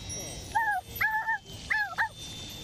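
A dog in a life-simulation video game, grown from a puppy to an adult, gives three or four short yelping barks close up, with a slight whine between them.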